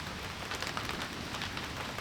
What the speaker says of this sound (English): hiding from the rain